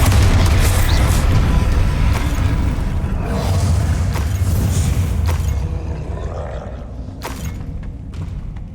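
A Bombarda explosion spell erupts in Hogwarts Legacy, a heavy, booming blast with thuds and shattering debris that rumbles for several seconds before dying away, followed by a few sharp cracks.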